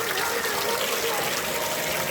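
Water splashing down a small waterfall at a hotel produces a loud, close, continuous gushing rush throughout.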